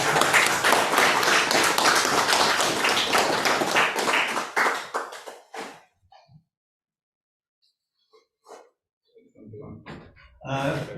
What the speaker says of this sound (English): Let's give them a clap, shall we?